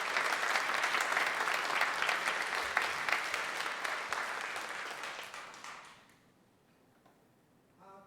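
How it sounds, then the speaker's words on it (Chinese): A church congregation at a Sunday service breaks into sustained applause to welcome a preacher, a dense, fairly steady clapping that fills the room for about six seconds and then fades out, leaving near silence. "我们用热烈鼓掌来欢迎"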